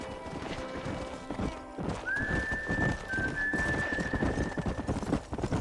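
Horse hooves clip-clop at a steady galloping rhythm in the Red Dead Redemption video game, with a brief whinny and a sustained whistle-like tone in the middle, set against constant game ambience.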